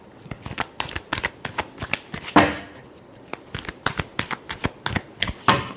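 Tarot cards are shuffled close by in a steady run of crisp riffles and slaps, with one longer sweeping riffle near the middle, and no voices.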